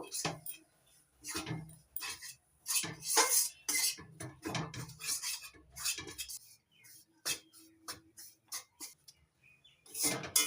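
Gram flour stirred and fried in hot ghee in a pan while making Bankura-style mecha sandesh, with repeated clinks and scrapes of a utensil against the pot, loud and close, coming in irregular bursts.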